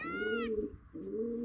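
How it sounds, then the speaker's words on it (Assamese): A peacock calls in Manas National Park: a short, bright harmonic cry followed by lower, sustained hooting tones with a brief gap between them. The call is fairly near and clear, with no talking. "ময়ূৰ ময়ূৰ ময়ূৰ ময়ূৰ এনেকৈ মাতি আছে"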